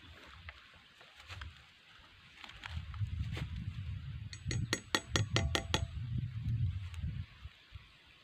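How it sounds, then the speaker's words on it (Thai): Metal blade being swapped on a Macro 999 rubber tapping knife in a rubber plantation: a quick run of about seven sharp, ringing clinks close by, over steady outdoor wind and rustle. "เดี๋ยวเปลี่ยนลิ้นยางก่อนนะครับ"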